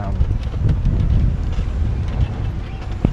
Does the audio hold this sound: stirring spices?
no